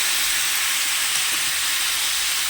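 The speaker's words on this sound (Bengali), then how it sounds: "তাহলে এখানে আমার মাংসের আলু ভাজা হয়ে গেছে" Potatoes for a meat curry fry in hot oil with a dense, constant sizzle and hiss that holds steady close up, with no voices.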